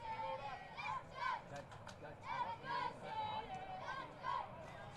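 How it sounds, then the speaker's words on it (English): Stadium crowd noise at an FFA Cup Round of 32 football match, Blacktown City against MetroStars: a broad, steady murmur of spectators that swells in a few surges over five seconds, with some shouting rising out of it. "As the crowd start to get into it"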